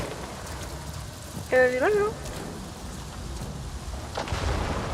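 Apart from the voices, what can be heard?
rain in a video game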